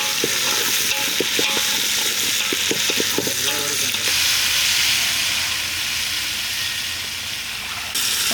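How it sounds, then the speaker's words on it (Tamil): Garlic sizzles and fries steadily in hot oil with loud, continuous crackle and hiss, close up, while a vague background hum runs underneath; part of preparing a Jalebi fish curry. "இது வெள்ளைப்பூடு இதையும் நம்ம எண்ணெயில் போட்டு விற்கலாம்"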